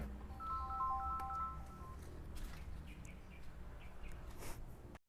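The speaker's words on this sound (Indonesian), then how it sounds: "Bentar, ada telepon." A faint electronic phone ringtone chirps a short repeating melody in the background, with light rustling and distant ambient noise around it, in a car repair setting.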